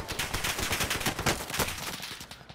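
Gunfire in the video game Warzone: rapid automatic bursts crackle close and loud for the whole moment, shots coming in a dense, uneven stream.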